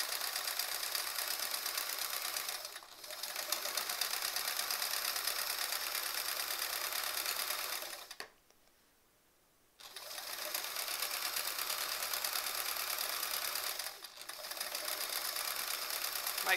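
A sewing machine quilting sampler blocks hums in a fast, steady buzz of stitches, stopping briefly three times with one longer near-silent gap in the middle.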